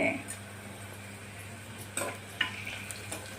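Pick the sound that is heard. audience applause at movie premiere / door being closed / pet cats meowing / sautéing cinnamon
sautéing cinnamon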